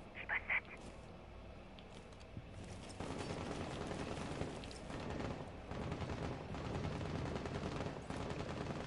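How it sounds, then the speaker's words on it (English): Video game gunfire: a couple of sharp early shots, then dense, continuous bursts of shooting and battle noise that stay fairly loud, with voices faintly in the background. "What's he shooting at?"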